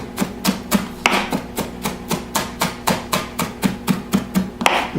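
A knife chops and minces food on a cutting board in a steady run of sharp, evenly spaced knocks, close and fairly loud, about three per second with no talking.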